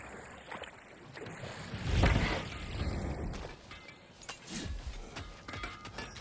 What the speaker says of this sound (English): I can hear the oar in the water and the sound of the boat moving in the water.